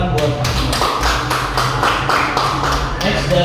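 A classroom audience of students claps for a presenting group after a bed-making lesson, a burst of quick, overlapping handclaps in uneven rhythm, close and fairly loud, continuing for several seconds.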